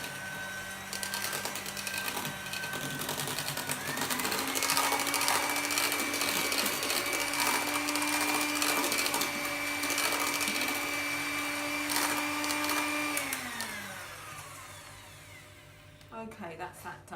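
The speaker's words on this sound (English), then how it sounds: "I'm going to turn this on, and I've got to get this into reasonably stiff peaks" An electric whisk whips a chocolate mousse mixture toward stiff peaks, a steady motor whine running for about fourteen seconds, its pitch rising as it speeds up and then winding down, with a little talk around it.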